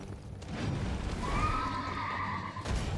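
A horse neighs loudly in Elden Ring, a long whinny rising and falling over steady game ambience and low rumble, heard alone without talk.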